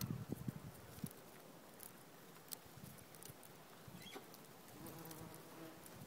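European wasps (Vespula germanica) buzzing faintly around a hole at the base of a greyish nest in a garden, a thin, continuous insect hum with a few soft taps near the start and no voices.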